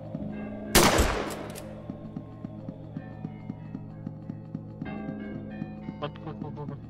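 Gunfire in a video game: one loud burst of shots near the start, then a steady rhythmic run of quieter repeated shots beneath game sounds, with a voice heard briefly.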